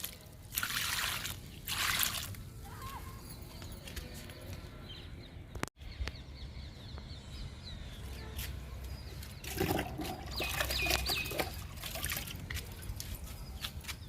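Liquid poured onto a potted plant, a soft continuous trickle and splash of water running into soil and pot, with a few birds faintly in the background.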